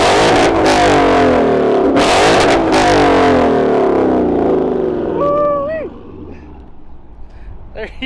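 A 2015 Ford Mustang GT 5.0 V8 with a Corsa Xtreme cat-back exhaust revs loudly and closely in a few strong bursts, then settles to a rumbling idle; a person whoops and makes excited sounds near the end.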